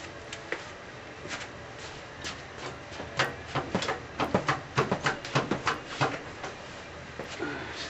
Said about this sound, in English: Now jack it up.